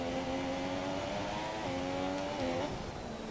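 An F1 car engine in the F1 2017 racing game whines at high, steady revs on a wet track, a continuous tonal drone that dips briefly and resumes, under a wash of noise.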